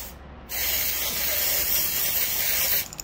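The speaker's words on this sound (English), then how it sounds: "Oh, am I just spraying the top?" An aerosol spray can sprays onto the top of someone's head in one continuous close hiss lasting over two seconds, starting and stopping abruptly after a brief spray at the start.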